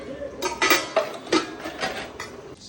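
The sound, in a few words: washing dishes, pots and pans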